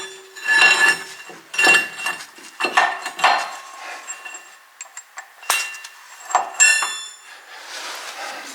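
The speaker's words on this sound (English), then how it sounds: "we'll actually grab some pliers and then just snug that up against here." Pliers snug a nut during a Frontier SB1164 snowblower hookup, producing scattered close metallic clinks and taps with short quiet gaps between them and no voices.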